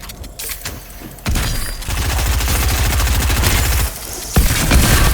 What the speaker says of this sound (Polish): ładnie siadł ten strzał z pompy